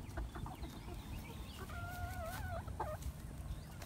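Chickens clucking in a backyard chicken run, soft near clucks and a drawn-out warbling call over faint outdoor background noise.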